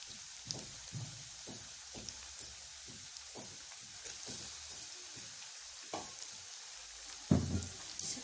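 Chopped onion frying in hot oil makes a soft, fairly faint sizzle, broken by regular stirring scrapes and one louder knock near the end, with no talking.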